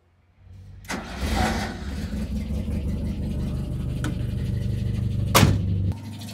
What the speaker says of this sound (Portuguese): Vou dar partida no carro.